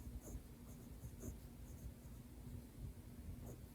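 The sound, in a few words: Esterbrook fountain pen stub nib writing on paper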